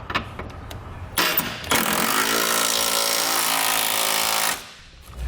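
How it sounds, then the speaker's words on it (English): A power tool drives a 19mm socket to tighten the bolts of a Curt trailer hitch receiver on a 2019 Toyota Highlander: a loud, close, continuous rattling hammer lasting a few seconds before cutting off. "come back with a 19mm socket and we're going to snug it all up"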